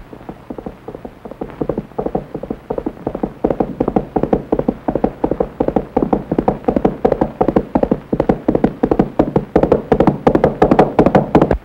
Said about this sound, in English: Leaping into his saddle, the courier spurred his horse out of the station.